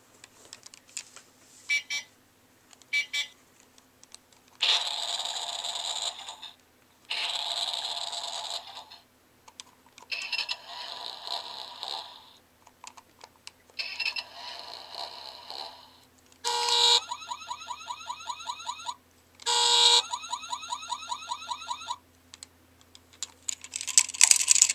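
A Baby Genius Lots-To-Do Car Keys baby toy plays a series of electronic sound effects and short melodic bursts with button clicks between them, each burst separated by brief silences, close and fairly loud.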